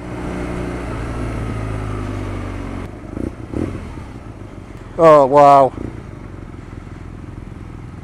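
A 2019 BMW R nineT Scrambler engine drones while riding, a loud low throb that rises in pitch and then eases off. A rider exclaims briefly partway through as the engine keeps running underneath.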